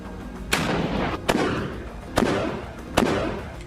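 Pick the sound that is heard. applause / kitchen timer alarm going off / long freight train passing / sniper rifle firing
sniper rifle firing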